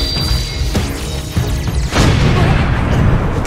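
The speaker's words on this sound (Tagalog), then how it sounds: "Ano, may sumabog pa sa likod yun." A loud, crashing boom bursts out and lingers as a dense rumble, with scattered bangs and clatter beforehand amid a noisy background.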